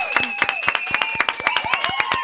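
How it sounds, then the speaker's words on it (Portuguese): Podcast studio audience applauding a guest, brisk overlapping claps with sharp peaks, voices calling out and cheering over the clapping. "Mais palmas, eu quero mais palmas!"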